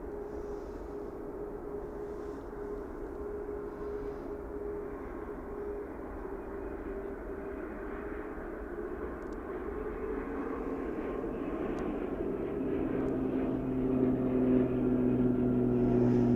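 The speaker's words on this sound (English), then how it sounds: "taking off then next, we've got an Origny ATR 72-600 going to Guernsey." Aurigny ATR 72-600 turboprop taking off at snowy Manchester Airport, a steady distant drone that swells louder toward the end as engine tones rise, with no voices.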